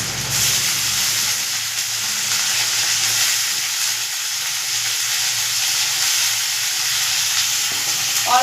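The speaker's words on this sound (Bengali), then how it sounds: "আলু আর পেঁয়াজ আমি একসঙ্গে ভাজবো।" Long strips of soaked potato fry together with onions in hot oil, giving a steady, loud, even sizzle and hiss that runs unbroken, with no talking.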